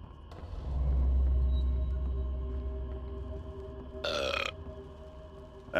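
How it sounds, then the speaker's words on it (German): A character in Dying Light's Hellraid DLC lets out a long, deep, rumbling burp that swells and fades over about two seconds, loud and close, followed by a short rasping noise. "Ey, wer rülpst hier rum?"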